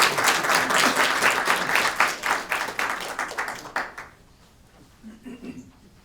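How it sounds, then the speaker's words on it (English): A school committee meeting audience claps in a sustained round of applause that thins into scattered claps and ends abruptly, followed by quiet room tone and a brief murmur of voices. "how about another round of applause for"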